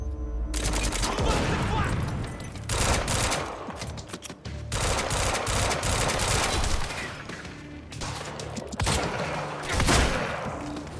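Gunfire in the Quantum Break video game, heavy bursts of automatic fire in repeated loud volleys with short gaps between them, dense and close, with some voices mixed in.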